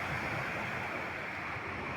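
Baltic Sea waves and surf wash steadily along the shore with a constant broadband roar, mixed with light wind noise buffeting the microphone and no voices.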